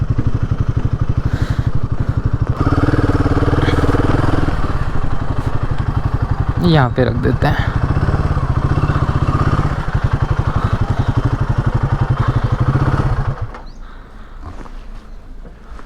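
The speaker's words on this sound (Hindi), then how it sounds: "थोड़ी सी छांव देख के अपनी बाइक को लगा लेते हैं।" A motorcycle engine idles close by with a steady low throb and some clatter as the bike is parked in the shade, then it cuts off near the end. A person speaks briefly over the engine.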